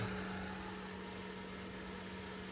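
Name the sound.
ventilation fan running inside an egg incubator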